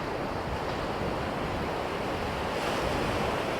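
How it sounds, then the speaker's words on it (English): Ocean surf rolls in on the deserted beach at Hornsea, a continuous broad wash of breaking waves mixed with gusty wind buffeting the microphone, loud and steady with no voices. "Look at the waves coming in."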